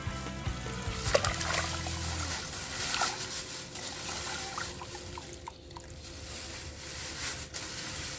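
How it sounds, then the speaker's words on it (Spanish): Water from a 1.5-litre measure is poured into a bag resting over soil, a steady trickling splash running throughout, fairly close and moderately quiet, with a low hum in the background. "Paso seguido lo que haremos es vertir el agua"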